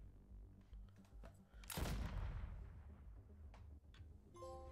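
Gunfire in a Suicide Squad action game: a few faint pops, then one sharp, loud gunshot with a rumbling tail, followed by scattered quieter shots.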